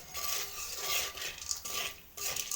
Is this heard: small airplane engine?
no